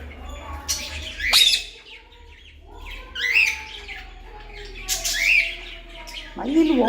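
A pet talking parrot named Sidhu squawks and chirps in several bright, separate calls spread over a few seconds, close and fairly loud against a quiet indoor hum.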